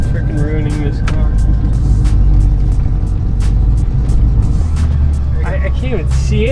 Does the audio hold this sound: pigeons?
no